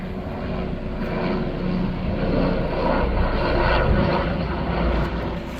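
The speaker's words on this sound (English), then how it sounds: "thanks to this helicopter, which we'll try to zoom in on" A loud, steady helicopter engine drone passes overhead, swelling slightly in the middle before easing, with a whirring rotor-like rumble and no talking.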